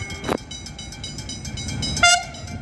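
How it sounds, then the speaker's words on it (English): Australian train sounding a horn salute, a short loud blast near the start followed by a second brighter horn tone around two seconds, over steady rail rumble with no talk. "Horn salute, alright."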